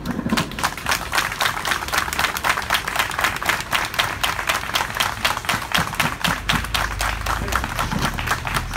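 Civil-servant union protesters clapping outside the Avcılar municipality building in Istanbul, a dense, steady patter of many hands that carries on through the whole stretch at a fairly loud level.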